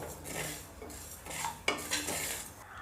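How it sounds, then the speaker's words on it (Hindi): Cumin seeds and cloves dry roasting in a pan for an ayurvedic kadha, with a spoon scraping and clinking against the metal in short close bursts and no voices. "जीरा और लौंग, इन्हें हल्का सा भून लेंगे।"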